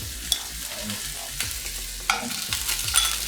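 Carrots, potatoes and other vegetables frying in hot olive oil in a non-stick pan, a steady broad sizzle with a few sharp clicks and scrapes of stirring scattered through.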